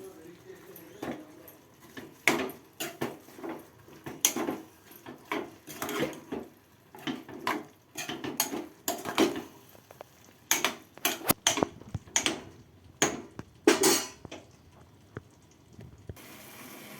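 Utensil repeatedly scraping and clinking in a pan as curry leaves are stirred into a ridge gourd and tomato curry, producing irregular knocks and scrapes up close with quieter gaps between them.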